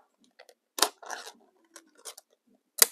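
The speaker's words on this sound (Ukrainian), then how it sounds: "Ось бачите, так відкривається баночка." A small ration tin of bread from an Estonian Army MRE is opened up close, a few short sharp metallic clicks and scrapes separated by brief quiet gaps.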